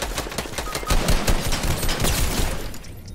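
Sniper rifle gunfire in the Fortnite battle royale video game, loud overlapping sharp reports in rapid succession filling the whole short moment, with no speech.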